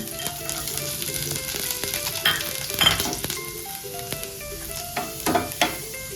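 Garlic frying in two spoons of leftover hot oil in a pan while making soya chilli, a soft continuous sizzle with occasional stirring clinks, close and without talk.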